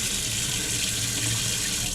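Steady broadband rush of water running from a sink tap in a budget hotel room in Iloilo City, continuous and fairly loud for the whole stretch, with no voices over it.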